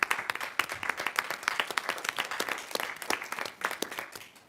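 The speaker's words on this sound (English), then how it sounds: "So I think that deserves a round of applause" Applause from a city Common Council meeting audience in South Bend, Indiana, honoring the city fire department: a dense patter of many hands clapping at moderate distance, steady throughout and tapering slightly at the end.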